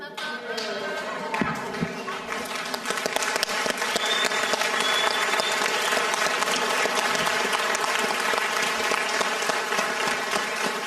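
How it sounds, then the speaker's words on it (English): A conference audience gives a standing ovation, filling the room with loud, dense, steady applause for about eleven seconds, and the clapping swells slightly as it goes on. "I just wanted to give you a standing ovation"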